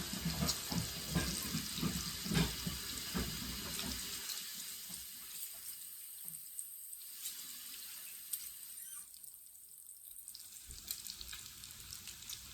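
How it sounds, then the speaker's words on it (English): A frying pan is washed under a running kitchen tap, with loud rushing water and splashing at first that thins to a softer trickle and occasional drips, close by, with no talking. "Where's my pan? Oh, I got to wash it real quick."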